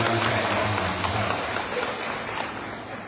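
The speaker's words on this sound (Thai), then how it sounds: "เสียงปรบมือนะครับ" An audience at a temple ceremony at Wat Ban Pae in Chom Thong, Chiang Mai, gives a dense, steady round of applause that tapers off gradually toward the end.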